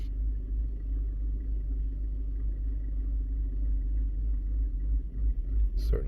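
A 2014 Chevy Equinox idles in drive with a rough shake, giving a deep, steady low rumble with uneven pulsing, close and fairly loud, and a brief sharp sound near the end.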